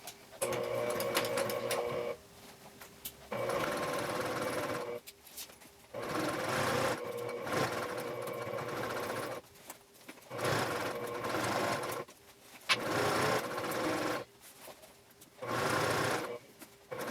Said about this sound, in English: we'll take this over to the sewing machine and we'll top stitch along our previous top stitching